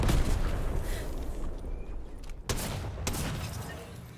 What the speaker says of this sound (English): keep shooting him with the tank.